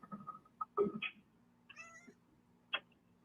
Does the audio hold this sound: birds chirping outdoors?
no